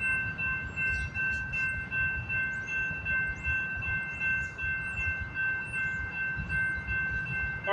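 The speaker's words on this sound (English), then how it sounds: "There's the end of CNM382. Off it goes to McMillan Yard where it terminates." CN M382, a freight train, rolling steadily past Delray Junction with a continuous low rumble of wagons and faint clickety-clack, steady tonal squeal from the cars above, no talk.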